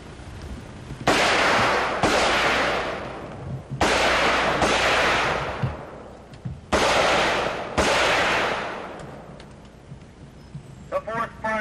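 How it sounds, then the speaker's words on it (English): Shotgun blasts ring out during close quarters battle familiarization training in a tire house, five loud, sharp reports spaced roughly one to two seconds apart, each with a long reverberant decay, ending with faint clatter. "The fourth firer is firing shotgun familiarization."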